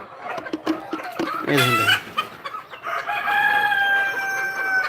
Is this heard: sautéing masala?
no